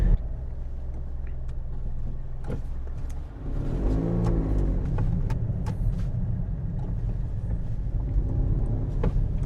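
Small Toyota Aygo car cruising on a UK motorway, a steady loud cabin road rumble and engine drone throughout, with a brief swell of rising engine tone midway and no talk.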